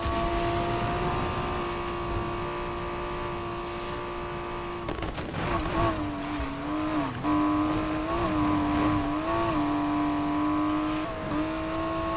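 A Mazda Miata races in the video game Need for Speed Heat, its engine droning steadily at high revs with wavering pitch as it shifts, accompanied by clattering in-game effects throughout.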